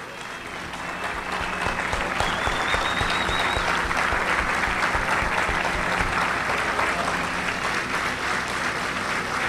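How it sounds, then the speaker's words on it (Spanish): Audience applause fills the chamber of the Venezuelan National Assembly, a sustained roar of many hands clapping that swells and holds loud throughout, with a faint whistle-like tone briefly above it. "queremos darle la bienvenida a todos los ciudadanos que se encuentran con nosotros acá, y más bien nosotros aplaudirlos a ustedes"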